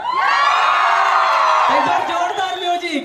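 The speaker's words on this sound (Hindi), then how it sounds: "तो चिल्लाइए एक बार" A crowd at an indoor event shouts and cheers together in one loud, sustained roar of whoops and yells, which tails off into scattered voices near the end.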